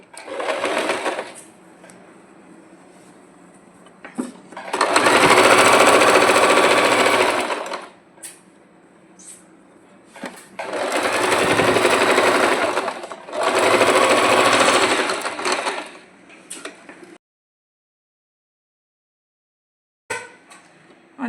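Sewing machine stitching the front parts of a blouse, running in three loud bursts of rapid stitching separated by short pauses with quieter handling noises, then silence near the end.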